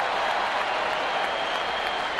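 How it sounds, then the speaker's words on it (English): Baseball crowd at Fenway Park sends up a loud, steady, broadband cheer after a routine first out, sustained and close throughout. "a mock cheer goes up at Fenway"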